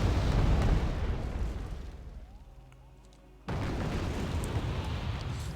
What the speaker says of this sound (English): Fire all the mortars that you got into this tree line.